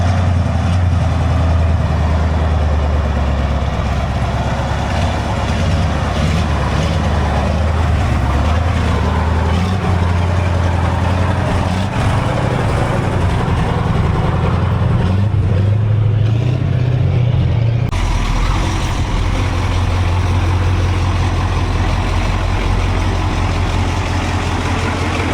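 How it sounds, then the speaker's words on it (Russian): A KrAZ 255 heavy truck, back on the road after twenty years idle, drives with a loud, steady low diesel drone, a deep rumble that holds throughout and shifts slightly partway through, with no voices. "Классная тачка, сейчас Никита поедет за рулем."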